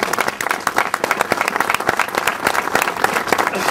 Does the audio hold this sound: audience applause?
yes